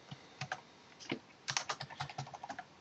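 Quick bursts of keystrokes on a computer keyboard as sample data is entered into a web form, the clicks coming in uneven clusters with short pauses, close and clear with no voices.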